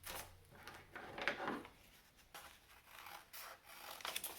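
Small scissors cut through folded paper with faint, close snipping and rustling strokes, several separate cuts spaced irregularly in a quiet room.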